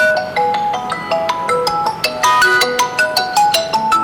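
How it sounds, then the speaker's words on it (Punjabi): A mobile phone ringtone plays a bright, repeating electronic melody of quick tones, loud and close, with nothing else heard. "ਕਿਹਦਾ ਫੋਨ ਆ ਗਿਆ ਸਵੇਰੇ ਸਵੇਰੇ"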